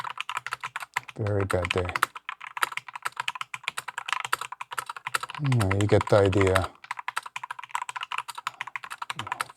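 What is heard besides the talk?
typing on mechanical keyboard with linear Gateron switches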